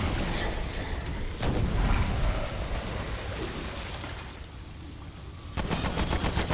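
Heavy, booming weapon fire in the video game Remnant: From the Ashes, a boss weapon firing in dense, loud bursts with a noisy rumbling wash between shots.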